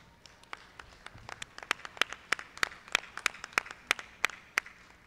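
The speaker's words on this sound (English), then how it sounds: "Let's please give our judge today, Mr. Paul Trapp, a warm round of applause." Scattered applause at a Jersey heifer show ring welcoming the judge, a sparse crowd producing distinct individual claps that build into a light, uneven patter over several seconds, moderately distant with no speech.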